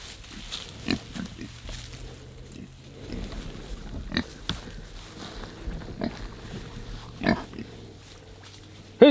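A sick pig on a farm gives scattered low grunts and snuffles at a moderate distance, short bursts separated by quiet pauses, with no talk.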